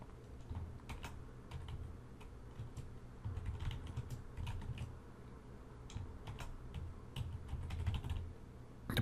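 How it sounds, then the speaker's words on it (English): Rapid typing on a computer keyboard while entering a phrase into a Canva design, with close, crisp keystrokes clicking in irregular bursts at a steady pace and no voices. "So I'm just going to type in here"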